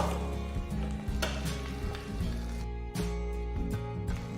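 Bread sizzling as it toasts in a hot pan, a steady close crackle with a few soft clatters as the slice is flipped over, no voices.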